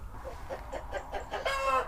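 Jersey Giant chickens in a coop give a short run of soft, rhythmic clucks, fairly close and moderately quiet, rising slightly near the end, with no talk.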